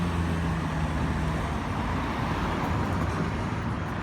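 Cars pass through a road junction, steering around a deep pothole, a steady roar of tyres and engines on the roadway, fairly close and continuous, with no talking.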